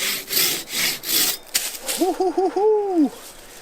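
A Silky KATANABOY 500 saw cuts through wood outdoors in loud, rhythmic rasping strokes close by, followed by a few short squeaky rubbing sounds as the strokes ease off.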